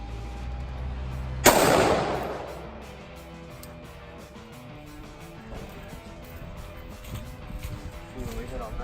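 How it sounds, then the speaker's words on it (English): A Springfield Saint AR-15 rifle fires one sharp, loud .223 shot outdoors, followed by a fading echo, with people talking before and after. "we're gonna be shooting 223 first out of Springfield Saint AR-15"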